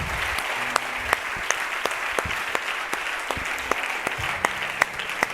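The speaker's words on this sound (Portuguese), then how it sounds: "Pode dar um aplauso a Jesus por tudo isso." A church congregation claps together in sustained applause during a worship service, a dense steady patter of many hands with a few sharper claps standing out, and low murmuring voices beneath.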